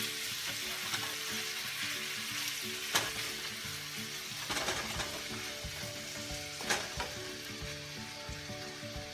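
Chicken pieces spread evenly in a pan fry with a steady, dense sizzle, while occasional sharp clinks and scrapes of a utensil rise above the continuous frying.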